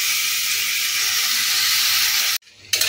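A soy and lentil mixture drops into a little hot leftover potato-frying oil in an aluminium wok, giving a loud, steady steamy hiss that cuts out abruptly near the end before a brief return.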